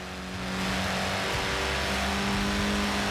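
A classic Mini Cooper S engine in a racing video game, Forza Horizon 4, rising into a steady droning rev, close and continuous with a low hum throughout.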